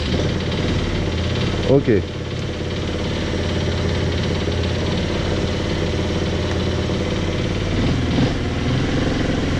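A restored, previously abandoned quad bike engine running at a steady idle, close and loud, with a continuous rough drone; a person briefly speaks over it.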